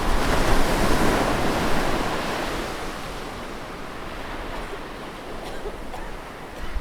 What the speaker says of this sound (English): The waves crashed again